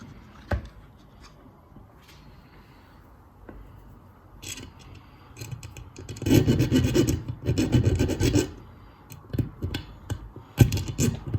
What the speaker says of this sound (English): So about 15 minutes of grinding, filing, sanding.